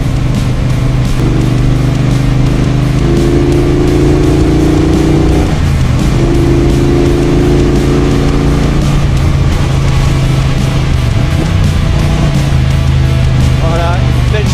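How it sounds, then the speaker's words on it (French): Triumph Bobber motorcycle with a Mountain Heights exhaust riding a fast, curving road in Thailand, the engine droning loud and continuous with shifting pitch as it accelerates and eases through bends, with wind noise throughout. "on écoute toujours le bruit de cette Triumph Bobber et de cet échappement Mountain Heights."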